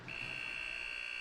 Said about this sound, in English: the buzzer goes. First period comes to an end.